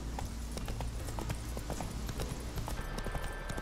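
Roach, the horse in The Witcher 3, clip-clops in a steady quick rhythm of hoofbeats, quiet and continuous, with no one speaking.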